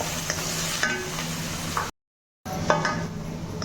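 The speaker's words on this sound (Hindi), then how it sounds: "प्याज जो है वो यहाँ पे भून चुकी है" Onions fry in a pan with a steady, close sizzle and stirring scrapes, broken by a brief silent gap.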